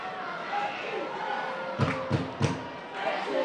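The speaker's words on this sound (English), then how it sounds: "And the crowd really did get behind Exeter on that one. They were absolutely elated." A crowd at an Exeter Chiefs versus Worcester Warriors women's rugby match cheers and chatters loudly, with a few sharp thumps and whoops, while a commentator's voice runs underneath.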